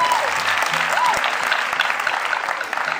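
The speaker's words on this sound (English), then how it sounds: "A round of applause to kings and queens here in the house." Audience applause at an Afro rhythmic cultural dancing performance during a festival, a dense, steady wash of many hands clapping close by for about three seconds, with faint tonal sounds drifting over it.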